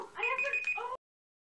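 A timer alarm goes off at the end of a timed building challenge, a short, close electronic ringing chime lasting under a second before cutting off abruptly to silence.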